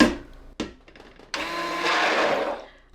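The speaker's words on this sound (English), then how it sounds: "I'm going to go ahead and blend in those little bits." A few sharp clicks and bumps, then a handheld stick blender whirs up loudly with a steady motor whine, close by, blending soap.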